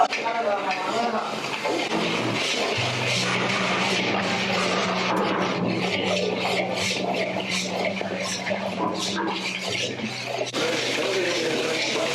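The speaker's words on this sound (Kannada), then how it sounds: "15 ನಿಮಿಷದಿಂದ ನೋಡಿ ಈ ತರ ಫ್ರೈ ಮಾಡ್ಕೊಂತ ಇದಾರೆ" Cashew and gulkand mixture frying in a pan for a long spell, a steady sizzle with scraping and stirring against the metal under continuous talk.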